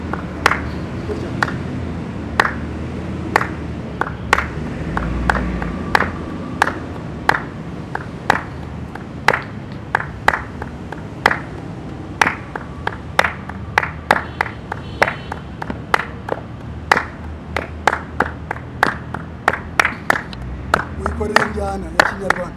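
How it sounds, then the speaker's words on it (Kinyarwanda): A group in a traditional Rwandan dance lesson claps hands in unison, with sharp claps coming at an even, steady beat throughout and an instructor's voice talking underneath. "tuvuze amashyi"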